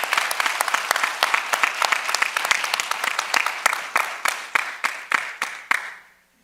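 An audience applauds at a school speech event with dense, steady clapping that thins into a few scattered claps before fading out.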